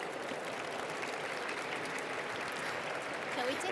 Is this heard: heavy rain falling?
no